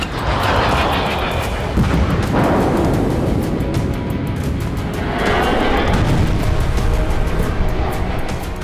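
Explosions and artillery fire from the war in Ukraine: a dense, continuous roar of blasts and rumbling booms that stays loud throughout, with no talking.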